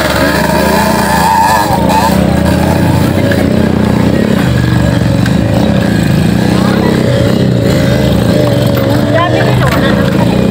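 Motorcycles ride up a rough, potholed mountain road, their engines droning loud and close with uneven revving, while people talk over the noise.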